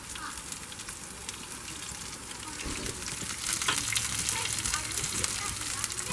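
Swiss chard stems and leaves frying in oil in a pan with added seasoning while being mixed, giving a steady close sizzle and crackle that swells slightly partway through, alone without talk.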